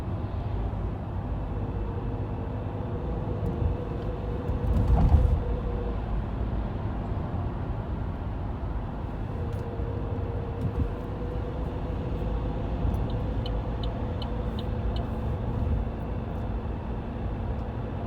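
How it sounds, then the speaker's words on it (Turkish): Steady road traffic rumbles in the background with a passing vehicle swelling briefly near the middle and faint high clicks later. "Trafik."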